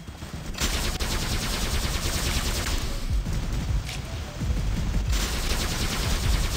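Rapid sustained gunfire from battling robots in War Robots, a dense fusillade of machine-gun bursts that runs continuously and loudly with brief dips, no voices over it.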